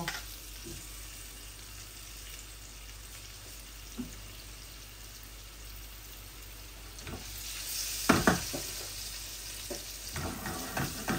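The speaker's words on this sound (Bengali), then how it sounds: "এখানে দুইটা মিডিয়াম সাইজের আলু আছে, আমি ভেজে নিচ্ছি প্রথমে" Steady sizzle of two medium potatoes frying in a pan, with occasional scraping and stirring knocks, louder toward the end.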